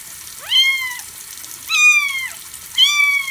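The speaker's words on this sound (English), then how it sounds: "You got a loud meow for a little 2 week old." A tiny two-week-old kitten being bathed meows loudly three times, each cry rising then falling, with short quiet gaps and a faint trickle of water in the background.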